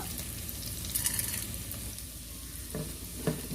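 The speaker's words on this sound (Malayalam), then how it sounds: "സവാള ഒന്ന് സോഫ്റ്റ് ആയി വരുന്നത് വരെ ഒന്ന് വഴറ്റി കൊടുക്കാം." Sliced onions and whole black peppercorns sautéing in a pan for beef pulav, a steady close sizzle with occasional stirring scrapes and clinks.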